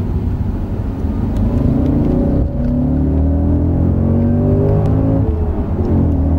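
A race car lapping Lime Rock circuit drones loudly in fourth gear, its engine note rising as it accelerates, briefly dipping on a shift, then climbing again, with steady wind and tyre roar throughout.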